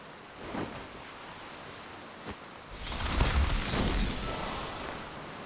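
Ice storm spell from the video game Octopath Traveler 2, a sudden bright crackling shatter that bursts in partway through and sustains a glittering, hissing spray of ice fragments.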